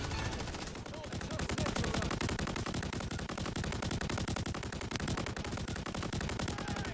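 Rapid automatic machine-gun fire in Call of Duty MW3, a loud, dense rattle of shots sustained nearly continuously, with voices faintly underneath.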